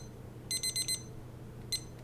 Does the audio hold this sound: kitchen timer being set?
yes